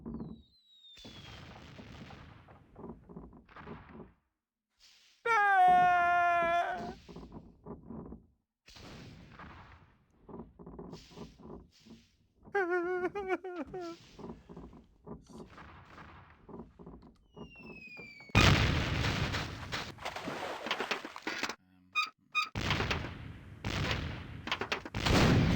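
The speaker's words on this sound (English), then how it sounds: "Hey, it's one of those new self-loading cannons I've heard so much about." Self-loading cannons fire in the PC game The Curse of Monkey Island, delivering a run of loud booming blasts between stretches of game sound, with a heavy sustained barrage toward the end.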